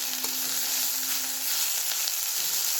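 Spice masala roasting in a hot pan for a bitter gourd curry, giving a dense and steady frying sizzle with faint stirring, close, continuous and at moderate level, with no voices.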